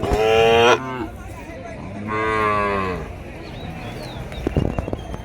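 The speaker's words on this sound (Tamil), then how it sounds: "ஸோ இங்கே பாருங்கள் இங்கே ஒரு சின்ன காளைக்கன்று" A young bull calf moos loudly twice at a busy cattle market, long drawn-out calls separated by a pause, followed by scattered knocks and hoof clatter.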